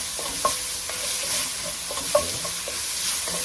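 Garlic and ginger frying in a pan over medium heat, a steady close sizzle with a few light scrapes and taps of a stirring utensil.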